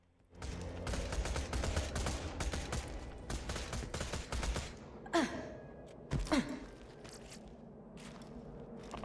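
Rapid automatic gunfire from a Borderlands 2 co-op session rattles in a dense burst for several seconds, then gives way to quieter scattered sounds and a couple of sharp, sweeping effects.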